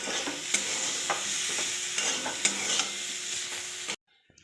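Spice paste with ginger and salt stir-fries in a pan for a papaya, potato and chana dal curry, a close steady sizzle punctuated by spoon scrapes and taps, ending abruptly in silence.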